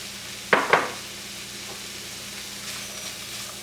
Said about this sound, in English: So we're just going to stir this all in, and then we're just going to let it cook for another minute.